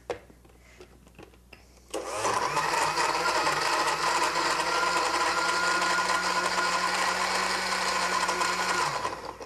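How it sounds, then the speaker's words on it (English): A kitchen blender starts after a short quiet pause and whirs loudly and steadily, crushing four or five frozen strawberries into lemonade, a dense continuous roar that runs to the end. "just reach into your bag of frozen strawberries and just throw, say, 4 or 5 in the blender, and watch this"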